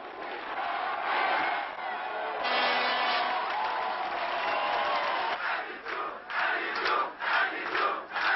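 A Parisian crowd celebrating Chirac's presidential election night roars and cheers continuously, with rising shouts and whoops swelling in waves, close and loud.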